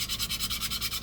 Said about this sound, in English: let's give this side a little sanding